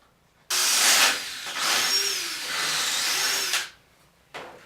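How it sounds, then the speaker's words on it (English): A barrel trimmer cuts a pen blank down to its brass tube, a loud high whirring power-tool drone that rises and dips in two long passes, then stops, followed by a brief restart. "a barrel trimmer."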